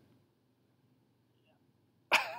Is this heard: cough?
yes